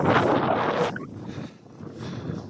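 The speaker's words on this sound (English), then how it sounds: "That wind's got up as well." Wind gusting across open farmland nature reserve on a cold winter day, a loud buffeting roar against the microphone that suddenly drops away to a softer, fluctuating rush, with no talking.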